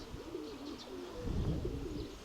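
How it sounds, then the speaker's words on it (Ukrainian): Soft, low pigeon coos repeat in a gentle rolling rhythm, fairly close, with faint chirps in the background. "красивий голубок, мені подобається."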